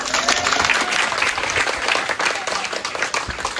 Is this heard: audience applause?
yes